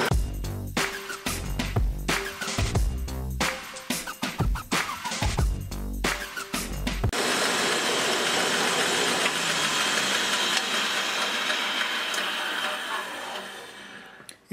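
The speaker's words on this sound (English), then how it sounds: "I'm going to cut out that half a wheel on the bandsaw" A bandsaw cuts a stack of wooden wheels taped together. Choppy, uneven clatter gives way to a loud, steady whir of the saw running through the wood.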